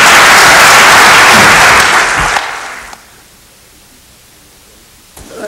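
Audience applause welcoming a poet at a 2002 Urdu mushaira in the USA, loud dense clapping for about two seconds that tapers off into near silence, with a faint rustle at the end.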